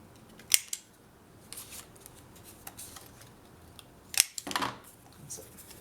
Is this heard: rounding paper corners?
yes